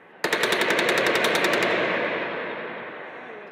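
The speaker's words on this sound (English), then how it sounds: "Gunshots can be clearly heard." Automatic gunfire during street clashes near Liberation Square in central Cairo: a sharp, loud burst of about a dozen rapid shots, then a long echoing tail that slowly fades.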